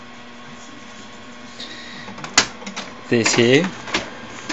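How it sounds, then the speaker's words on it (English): A printer receiving a job sent over the internet whirs and clicks, then feeds paper with a rapid mechanical chatter; someone talks briefly over it nearby. "I wonder who's printing to my printer and what it's going to be"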